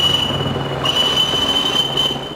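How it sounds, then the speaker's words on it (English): The Flying Scotsman steam train passes through Grantham station with a continuous rolling rumble of wheels on track and a sustained high metallic squeal, loud and close, with no voices. "Our reporter, GEMMA DAWSON, was at Grantham as the train passed through."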